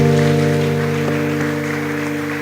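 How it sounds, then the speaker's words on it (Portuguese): A church congregation applauds during a worship service, a steady wash of clapping that fades slightly, heard under a loud sustained keyboard chord. "Uma salva de palmas para Jesus."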